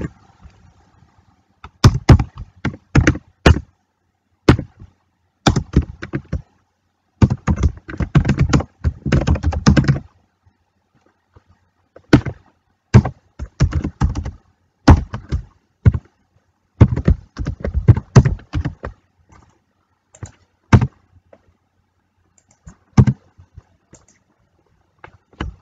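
Code being typed on a computer keyboard, close and clear, with rapid clattering bursts of keystrokes separated by short pauses, and no talking.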